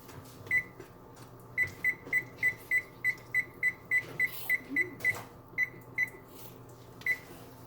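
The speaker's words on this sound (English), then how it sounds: "Setting the timer." Kitchen oven timer being set, a long run of short, evenly spaced high beeps, about fifteen, with a couple of gaps, moderately loud over faint room noise.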